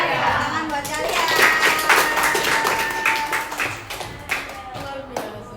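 A school class applauding together: a few seconds of steady group hand clapping, fairly close and lively, tapering off toward the end with scattered claps while a voice speaks over it.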